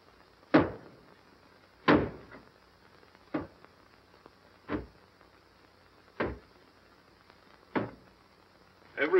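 A door being broken down, heavy blows struck at a steady interval of roughly one and a half seconds, seven thuds in all, moderately loud against a quiet background.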